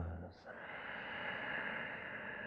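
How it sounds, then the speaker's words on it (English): Slow, steady breath drawn and released through the nose during a yoga class, a soft airy rush that holds nearly even for the whole stretch after a brief dip near the start. "Inhales through the nose. Exhales out the nose."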